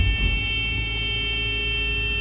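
A steady electronic alarm buzzer from a JRB hydraulic quick attach on a Komatsu 170 excavator sounds continuously and fairly loud, signalling the coupler is live, over a low engine rumble.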